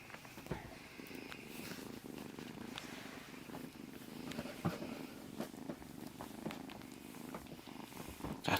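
A kitten purrs steadily and close by, a soft continuous rumble that stays even throughout, with faint rustles and no talking.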